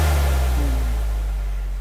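A deep sub drop effect in a DJ re-edit, a low booming tone that sinks and fades over about two seconds, alone and fairly loud.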